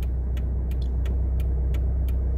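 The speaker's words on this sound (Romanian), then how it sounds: "dăm drum ușor la ambreiaj, nu ne grăbim, până când mașina începe să tremure" A car's engine idles with a low, steady rumble and shudders as the clutch reaches its bite point during a hill start, while rhythmic ticking clicks, likely an indicator, repeat throughout.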